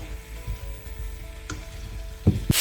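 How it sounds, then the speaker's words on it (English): Hog plums cooking in a pan with asafoetida give a steady, close, soft sizzle and frying hiss, with a few sharp knocks or clinks of a utensil near the end and no talking. "You then cook these hog plums for about 10 minutes."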